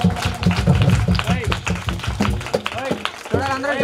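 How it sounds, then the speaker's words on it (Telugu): Children clapping together in unison at a camp, brisk rhythmic claps in a steady beat, mixed with chanting voices and an adult leading them. "అందరం బిడ్డగా చప్పట్లు కొడతాం."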